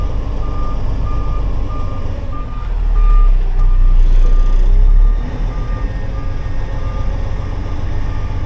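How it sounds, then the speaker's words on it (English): Backup beeps from a lowbed truck hauling an excavator ring out in a steady regular series, close and loud over a deep diesel rumble that swells midway through. "keep the truck away from this big drop off."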